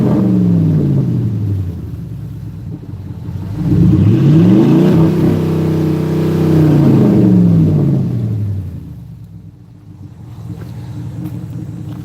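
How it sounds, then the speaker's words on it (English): A 5.7 liter Hemi engine revving hard twice, each rev a loud, close roar that sweeps up in pitch and falls back to a deep, rumbling idle between pulls. "One more time, give it a good rev."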